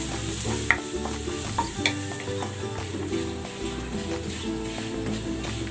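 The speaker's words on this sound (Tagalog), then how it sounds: "Maglalagay akong cooking oil. Ipiprito ko muna itong bawang." Garlic frying in cooking oil gives a steady close sizzle, broken by a few sharp clicks of stirring, with soft music running underneath.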